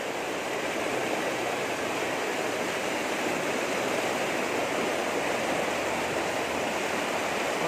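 Heavy rainwater rushes and churns in front of the Shrimant Dagdusheth Halwai Ganpati temple in Pune during a downpour, a steady, loud, unbroken roar with no talking.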